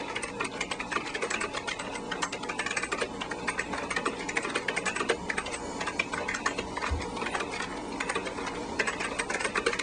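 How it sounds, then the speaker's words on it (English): Rapid, continuous clatter of keys on a computer keyboard, close and busy throughout, with no voices over it. "Keep typing."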